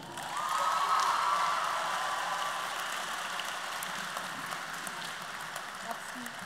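Steady crowd applause at a school graduation farewell ceremony, a dense wash of many hands clapping at moderate distance, sustained throughout with no one speaking over it.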